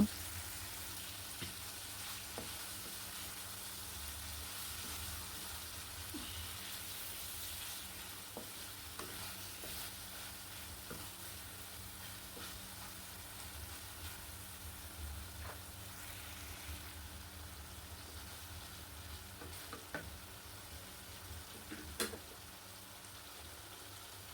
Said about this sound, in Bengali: মাছগুলোকে কিছুক্ষণ আমি এই মশলার মধ্যে কষিয়ে নিব।